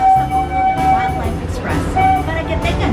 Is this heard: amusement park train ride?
yes